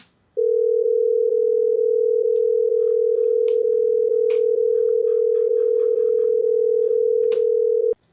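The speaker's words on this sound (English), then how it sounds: "This is 440 and 480, same amplitude. And what we get is a beating sound." Two equal-amplitude sine tones at 440 Hz and 480 Hz sound together as one loud, steady tone that pulses with a regular beating rhythm for about seven and a half seconds, with faint clicks beneath.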